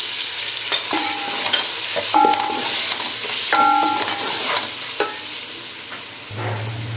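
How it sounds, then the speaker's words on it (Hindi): Dal makhani masala with dry coriander, green chillies and tomatoes frying and being stirred in a pan, a steady sizzle with scraping strokes and brief spoon knocks, no talk. "इसको डाल कर इसको भून लेंगे।"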